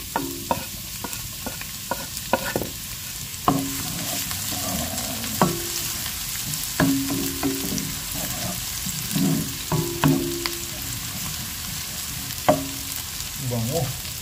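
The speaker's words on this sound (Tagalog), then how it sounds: "gisa na po natin yung ating bawang sibuyas" Garlic and onion sauté in a hot pan, a loud continuous sizzle broken by repeated scraping stirs at an uneven rhythm, with no voices.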